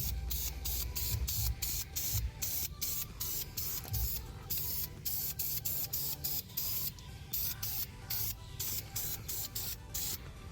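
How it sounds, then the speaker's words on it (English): Short bursts of heat-resistant spray paint applied to the brake calipers and drum brakes of a Smart car, hissing in a steady run of repeated puffs that stay close and fairly loud, with no talking. "now we're going to apply paint."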